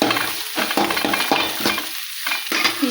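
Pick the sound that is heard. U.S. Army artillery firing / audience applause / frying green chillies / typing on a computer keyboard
frying green chillies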